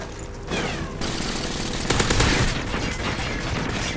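Rapid gunfire in the video game Modern Warfare 3, a dense, loud burst of automatic shots and reports that fills the whole span with brief shifts in intensity.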